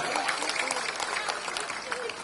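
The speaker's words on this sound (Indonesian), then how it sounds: "Ketua TPD Kabupaten Brebes, tepuk tangan Bapak Zubat." Crowd applause at a large outdoor political campaign rally in Brebes, a steady dense wash of clapping with crowd noise, moderately loud and continuous throughout.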